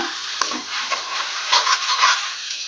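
A spoon stirs watermelon rind halwa in ghee with cardamom powder in a pan, making soft scraping strokes over a light, close sizzle, with a sharp tap early on and no talking.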